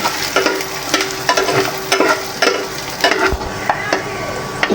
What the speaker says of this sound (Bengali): এখন আমি রসুনের কোয়াগুলো ভেজে নেব।